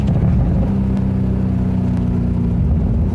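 Maserati engine fitted with a Fab Speed exhaust, idling and revving with a deep steady rumble close by, constant and loud throughout with no talk.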